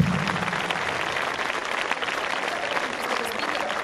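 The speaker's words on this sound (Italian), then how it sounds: "L'applauso ve lo chiedo molto caloroso" Warm audience applause fills a hall at a 2014 gramophone concert, a dense and loud wash of clapping that holds steady throughout.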